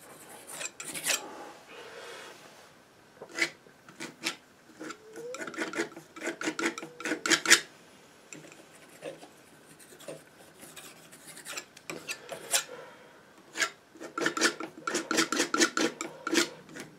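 Palette knife scraping and dragging oil paint across canvas, repeated rasping strokes in irregular bursts, close and moderately quiet with brief pauses between passes.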